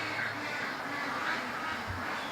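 Ducks quacking in a steady, continuous chorus near a swamp, the calls overlapping with no clear gaps and holding at an even, moderate level throughout.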